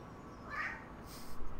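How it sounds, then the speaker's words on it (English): A cat meows in a room, one brief mid-pitched cry standing above a steady low hum and faint background sound, not especially loud. "she's just sitting in the middle of the room just meowing"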